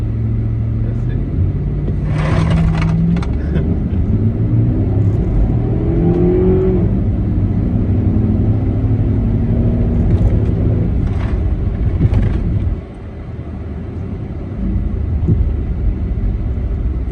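2009 Jeep Commander with a 5.7 Hemi V8 engine idling at high revs, a steady loud rumbling drone with a brief dip near the end, with voices talking over it.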